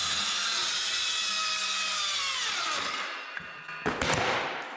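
Power saw cutting a chunk off a wooden piece while finishing a 302 Skidoo engine project, a loud, steady whining cut that winds down near the end, followed by a few knocks and clatters.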